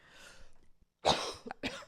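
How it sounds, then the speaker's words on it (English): A few quick coughs in close succession, preceded by faint breathing, short and close to the mic. "Coughing like a toddler."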